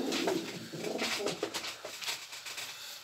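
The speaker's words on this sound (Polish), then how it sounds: "To jest gołąbek." Soft, repeated cooing of a Polish show homing pigeon nearby, low throaty calls rolling on and off without talking.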